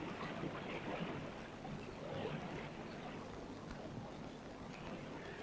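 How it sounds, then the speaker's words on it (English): A river flows steadily through summer countryside with a continuous broadband rush, evenly loud throughout, with no talk and no other sound standing out. "The noise of the river is a very pleasant accompaniment to weed cutting"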